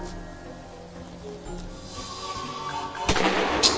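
A single loud gunshot cracks out in the Scary Doll video game, sharp and close, after a few seconds of low, steady ambient hum.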